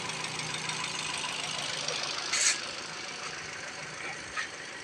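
A Ford EcoSport with automatic transmission idles steadily with a faint, even engine hum and a slight knocking texture, a continuous low drone throughout with no voices.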